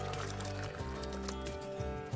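Hot pumpkin and coconut soup pours steadily into a blender, a continuous liquid trickle and splash running close by for a couple of seconds against faint kitchen background.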